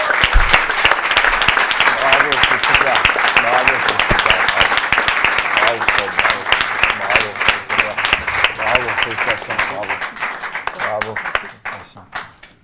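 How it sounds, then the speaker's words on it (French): Audience applause for a guest being welcomed onstage at a French television show, loud dense clapping that fills the space for about eleven seconds before tapering off and ending abruptly. "Je vous demande d'applaudir Stomy Bugsy."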